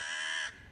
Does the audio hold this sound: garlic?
no